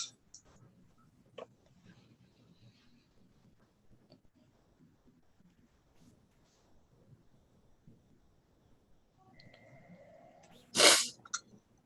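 A single sharp sneeze bursts out near the end after a long stretch of faint room noise and soft shuffling, close and loud against the quiet.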